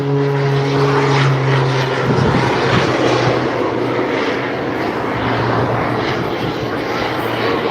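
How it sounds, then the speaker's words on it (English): Aircraft engine roar from a jet-kitted display aircraft with two jet engines flying at the Blackpool Airshow 2026, a loud sustained drone that swells and lingers, with a voice speaking briefly near the start. "Let's listen out for the sound of the jet engine."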